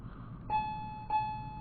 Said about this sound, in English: That was the bell.